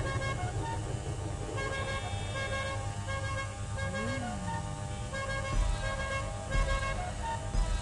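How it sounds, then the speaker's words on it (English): Cars in the video game GTA drive past with a steady road hum, and a car horn toots once clearly around the middle, set against a continuous mix of in-game ambience and music. "you can hear the cars going"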